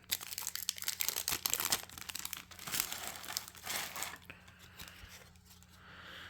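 A pack of 2023-24 basketball trading cards being torn open and its wrapper crinkled, with close, bursty crackling and ripping that settles into softer rustles near the end.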